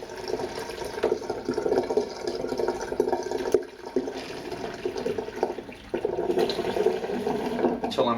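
Cold tap water pours into a bowl of freshly boiled water mixed with a teaspoon of soap, a steady splashing, burbling fill that runs throughout with a short dip midway.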